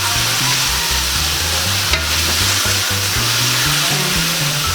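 About half a cup of vinegar goes into a hot pan for fish escabeche, setting off a loud, steady sizzle and bubbling boil with a low rhythmic thrumming beneath it throughout; no voices.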